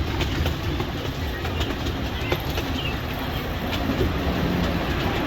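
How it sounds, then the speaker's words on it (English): Small amusement park train ride at Knoebels rolling steadily along its track through tunnels, a continuous rumbling clatter with faint clicks, close and fairly loud throughout. "Cute train ride."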